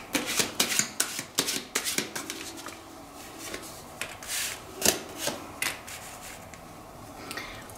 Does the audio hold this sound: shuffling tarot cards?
yes